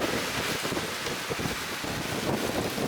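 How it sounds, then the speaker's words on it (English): Strong wind roars steadily across the microphone in the Bahamas after Hurricane Dorian, a dense continuous rush with low buffeting gusts throughout. "It's also so windy right now."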